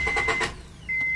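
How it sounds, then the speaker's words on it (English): A 1994 Honda Accord engine cranks but fails to start: a close, short run of rhythmic starter churning with a steady whine, which dips and then resumes. "First, let me crank it."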